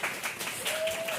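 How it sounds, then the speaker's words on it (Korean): Congregation applauding to welcome a university student during a Sunday morning church service; short, soft, fairly dense clapping with a faint tone running under it. "박수로 한번 환영합시다"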